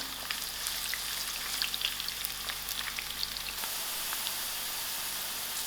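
Onions frying steadily in a pan, a continuous close sizzle with fine crackling pops throughout, dropping slightly in low rumble partway through.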